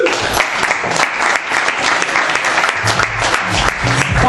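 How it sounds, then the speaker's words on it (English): Open mic comedy crowd giving a comedian a round of applause, loud continuous clapping with a few brief swells, steady from start to finish and heard alone without speech. "Clap it up for him, everybody."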